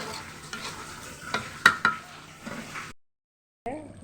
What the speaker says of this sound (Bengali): এখন ভালোভাবে নেড়ে ছেড়ে দিচ্ছি।